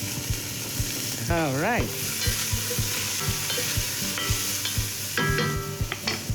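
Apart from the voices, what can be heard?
leeks sizzling in a pan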